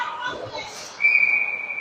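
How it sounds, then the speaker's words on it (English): A referee's whistle at an ice hockey game sounds one sharp, steady, high-pitched blast lasting most of a second, rising over crowd and arena noise along with a faint earlier whistle-like tone. "And we have a whistle here with 2:49 to go."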